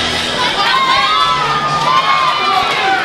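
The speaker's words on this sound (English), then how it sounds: "Looks over to his section of the crowd that's cheering him on" A boxing crowd at an SCL 51 fight cheers loudly for fighter Hall, a dense, continuous roar of shouts and whistles that holds steady throughout without a break.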